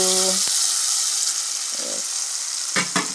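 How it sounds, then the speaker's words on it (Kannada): Mustard seeds spluttering in hot oil for tempering, a dense continuous sizzle with scattered sharper pops and crackles over a few seconds, loud and close, with a short tonal beep at the start and no speech. "ಸಾಸಿವೆ ಸ್ವಲ್ಪ ಚಟಪಟ ಆದಮೇಲೆ ಒಗ್ಗರಣೆ ರೆಡಿ ಆಯಿತು"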